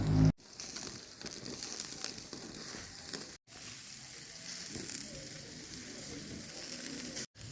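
Sausages frying on a braai grill give a steady crackling sizzle with bursts of fizzing fat, moderately quiet, broken by a few sharp dropouts.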